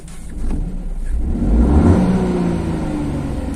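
A 2022 Peugeot 2008 Allure engine revs as the accelerator is pressed, a low hum rising to a swelling whir that peaks and then settles into a sustained drone, heard from inside the car.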